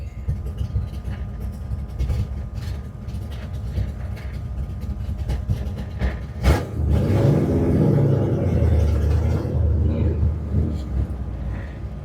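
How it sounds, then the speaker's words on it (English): A car doing a second-gear burnout at a drag racing event, engine roaring and revving up steadily into a loud, sustained rumble after a sharp crack, with tire noise rising underneath. "Second gear burnout, let go of the damn button."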